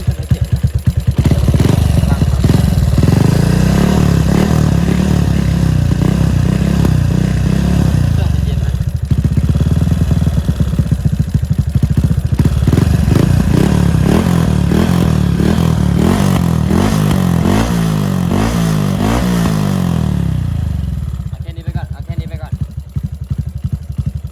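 A Honda Dream Super Cub motorcycle engine runs loudly up close, revving up and down in waves, with talking underneath, before cutting off near the end.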